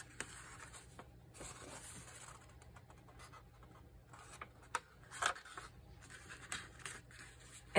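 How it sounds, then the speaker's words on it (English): A sheet of paper being opened, folded and creased along lines, close soft rustling, rubbing and scraping with a few sharper crinkles and taps, moderately quiet and uneven, no talking. "I'm going to open this up and I'm going to fold it at, like, line up the creases here"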